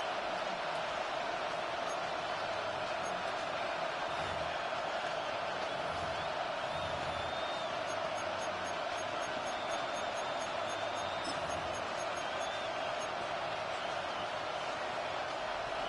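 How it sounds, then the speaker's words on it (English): Stadium crowd noise from the video game Madden NFL 26, a dense, steady roar of a large football crowd held at constant level throughout, with faint whistle-like tones drifting above the wash. "This crowd turning up the decibel level."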